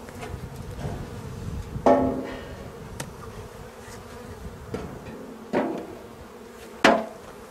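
Honeybees from a secondary swarm with young queens hum in a nucleus hive, a steady close drone under sharp knocks and handling taps, without any voices.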